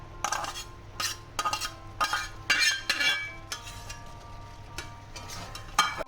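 Metal spoon scrapes and clinks against a pan, stirring a fried egg into lentil dal. The sharp irregular taps and scrapes come close and fairly clear over a quiet, low hum.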